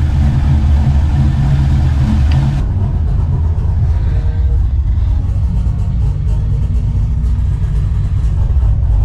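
A Chevy 5.3 V8 engine, swapped into an OBS Chevy truck, idles steadily nearby, a deep continuous rumble with a faint hiss at first, holding an even level throughout without revving.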